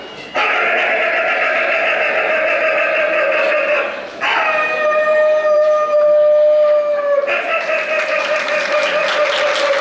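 A person loudly imitates a dog's barking and whimpering with the voice on stage, sustained over several seconds, with a brief pause midway.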